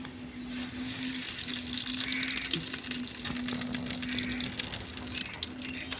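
Ghee heating and sizzling in a dry kadai while making Punjabi gajrela (carrot halwa), a steady close frying hiss lasting throughout with a faint low hum underneath and no talk.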